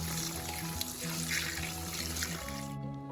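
Red rose apples being washed under running tap water in a sink, a steady gush of flowing water splashing throughout, close and continuous, ending with a drop-off as the flow cuts.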